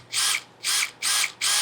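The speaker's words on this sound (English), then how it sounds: "Try to drill into the frame as straight as you can" A power drill bores into an RV frame in four short, evenly spaced bursts of high whining, each about a quarter second long and loud and close, with quiet gaps between.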